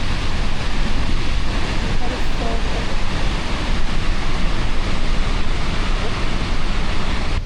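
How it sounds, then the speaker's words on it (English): Snoqualmie Falls roars as a dense, constant wall of rushing water, loud and unbroken throughout, with a faint hint of voices beneath the roar. "This waterfall is huge."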